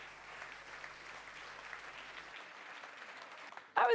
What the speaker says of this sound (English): Please give a round of applause to Jimmy and Nicholas